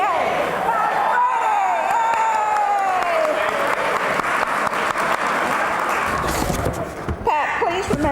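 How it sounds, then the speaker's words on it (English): An audience at an awards evening applauds and cheers for honoree Pat Brady, sustained clapping with a voice carrying over it, a few sharp thumps and a sudden louder burst near the end. "So please join me in a cheer of appreciation for Mr."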